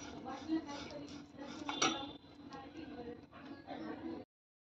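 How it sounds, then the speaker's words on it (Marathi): Pots, pans and utensils clink and clatter in a home kitchen while a colocasia leaf snack is being cooked, with scattered sharp metallic knocks close by and a low voice faintly underneath. "स्वयंपाक म्हटलं की थोडेफार भांड्यांचे आवाज हे असतातच"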